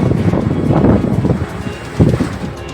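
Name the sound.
strong wind during storm in Ahmedabad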